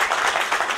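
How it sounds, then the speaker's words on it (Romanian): A crowd at an engagement celebration claps in a brief, lively burst of applause, a dense patter of many hands heard up close. "Aplauze!"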